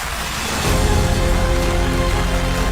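Heavy, dense downpour pours steadily at an outdoor political rally, a loud continuous hiss that swells in within the first second and holds, with no clear voices.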